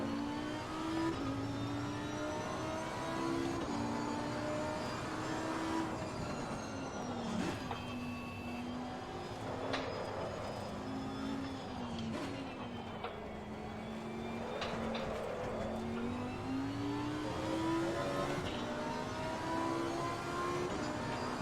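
A race car engine in the video game Assetto Corsa Competizione drones steadily, its pitch rising and falling through gear changes and throttle shifts, a continuous moderate roar with no talk.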